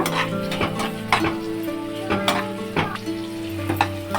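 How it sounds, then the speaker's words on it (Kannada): Onions frying in hot oil until brown for a double masala chicken sambhar, a steady loud sizzle with repeated stirring scrapes and clinks of a spoon against the pan, no talking. "ಈರುಳ್ಳಿ ಬ್ರೌನ್ ಆಗಬೇಕು, ಸ್ವಲ್ಪ ಹುರ್ಕೊಳ್ಳೋಣ."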